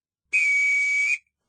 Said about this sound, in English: Oh dear, I believe he is whistling for me.